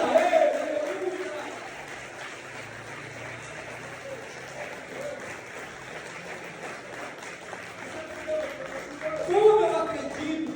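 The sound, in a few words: church congregation applauding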